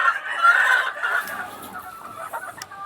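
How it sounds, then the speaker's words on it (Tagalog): Hens clucking in a guarded breeding pen, a close, fairly loud stretch of drawn-out clucks and calls early on that trails off into softer, scattered clucking, with no talking. "So, this is one of my proven hens."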